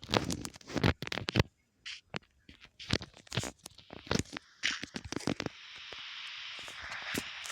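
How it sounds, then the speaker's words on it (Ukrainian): Rain patters steadily in Minecraft, a soft continuous hiss rising under a series of sharp clicks and crunchy taps that break off near the end. "Блін, цей довбаний дощ"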